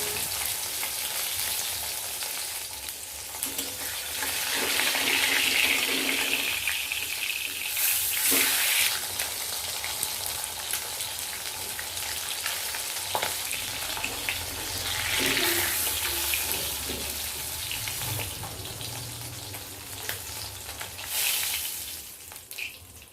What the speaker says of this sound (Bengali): কড়াই ভালো মতো গরম করে তেল দিয়ে মাছগুলো ভেজে নেব।